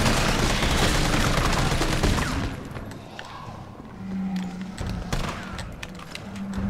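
Rifle gunfire in Resident Evil 3 Remake bursts in a dense, loud barrage for about two seconds, then gives way to scattered lighter shots and game sounds with someone talking over it.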